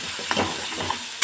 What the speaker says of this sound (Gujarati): હવે એને પણ હું ગોલ્ડન બ્રાઉન સુધી કૂક કરી લઈશ